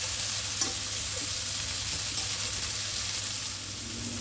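Red chili and bird's eye chili sauté in a pan, giving a continuous dense sizzle close up with a faint steady hum beneath and no voices.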